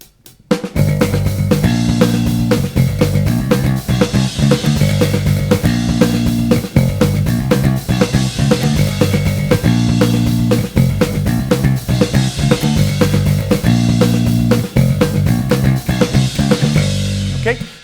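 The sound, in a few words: isolated original bass track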